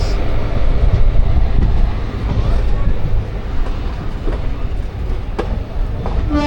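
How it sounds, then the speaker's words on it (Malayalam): Thiruvananthapuram North–Sri Ganganagar Express train rumbling steadily and loudly at close range, a continuous low roar with faint rail clatter throughout. "ഇതാണ് തിരുവനന്തപുരം നോർത്ത് ശ്രീഗംഗാനഗർ എക്സ്പ്രസ്."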